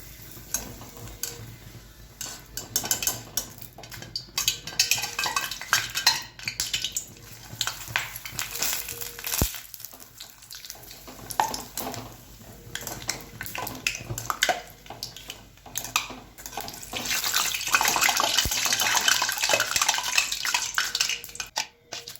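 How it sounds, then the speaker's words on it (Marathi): Potato chips frying in hot oil, a steady close sizzle and bubbling that swells and fades, with occasional stirring and utensil clinks, no talking. "काही बटाट्याचे चिप्स मी तुम्हाला तळून दाखवणार आहे"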